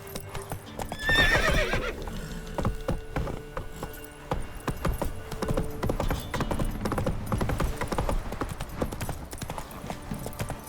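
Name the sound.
horse Roach neighing and hooves in video game The Witcher 3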